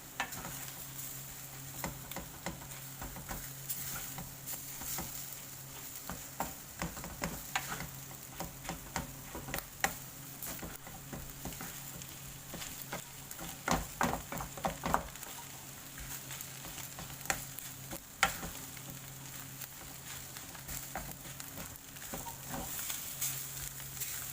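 Rice is stir-fried with fermented pork over high heat, a soft continuous sizzle broken by frequent scraping and clicking strokes of a spatula in the pan, with no talking.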